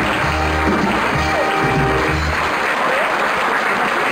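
Sustained applause from a crowd filling a decorated hall at a 2015 carnival evening in Ediger-Eller, a dense steady wash of clapping lasting several seconds with no voices over it.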